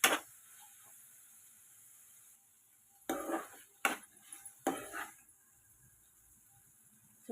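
A spoon scrapes and clatters in a pan as flat bean curry with ginger and green chillies is stirred, a few sharp bursts of metal contact between quiet stretches of faint background hum.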